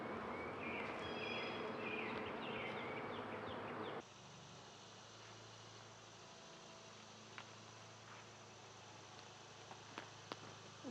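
Honey bees buzzing steadily around a full ten-frame hive outdoors, a dense continuous hum that drops to a quieter, thinner drone partway through, with a few faint clicks near the end.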